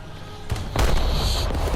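Tank cannon fire in War Thunder strikes from behind, a sharp blast followed by a louder booming impact that rumbles on with lingering noise.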